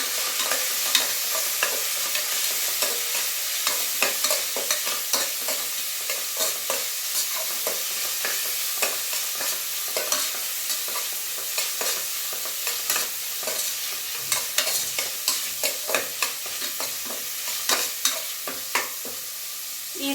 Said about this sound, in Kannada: ಚೆನ್ನಾಗಿ ಫ್ರೈ ಮಾಡೋಣ.